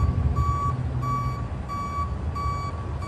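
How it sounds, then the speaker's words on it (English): Tow truck reversing alarm sounding a steady run of loud, evenly spaced beeps over low engine rumble and outdoor background noise, with no talking. "Y'all can see there go the tow truck."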